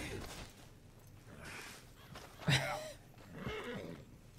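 Horse whinnying in the video game Red Dead Redemption 2, a sharp, loud neigh rising and falling near the middle, with softer snorts and breaths around it, close by.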